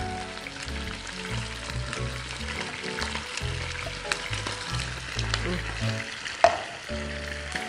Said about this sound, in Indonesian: Langsung masukkan di wajan bumbunya.